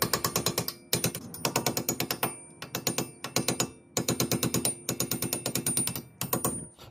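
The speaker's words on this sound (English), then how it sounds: "you grab your hammer and punch. We're gonna punch this pins out." Rapid bursts of sharp metallic clicking in repeated clusters from a hammer and punch driving out brake pins on a 2013 Subaru BRZ, close and loud with short pauses between groups.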